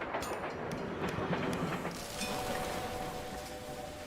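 Train running in the Railway Empire video game: a steady rolling rumble with clickety-clack wheel rhythm and a hissing wash that shifts midway. The train sounds moderately close, with no talk over it.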